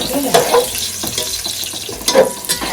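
Onion and masala being sautéed together for a village-style chicken curry, with close scraping stirs and a soft sizzle, spoon strokes landing in irregular bursts against the pan.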